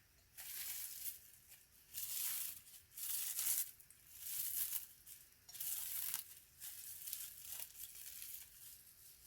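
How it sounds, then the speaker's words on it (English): Plastic wrap peeled off a ceramic plant pot painted with alcohol ink, giving soft repeated tearing and crinkling bursts in uneven waves, close and quiet. "And then you just peel this back"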